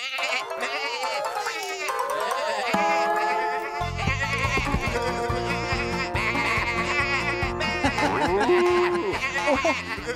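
Cartoon sheep bleat repeatedly over bright, bouncy music, the wavering cries rising and falling throughout while a French voice occasionally comes through.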